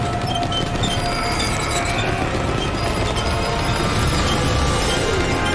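Train in the Spider-Man 3 video game: a loud, steady rolling rumble with rattling, clattering metal and occasional crash-like hits, continuous throughout, with no talking.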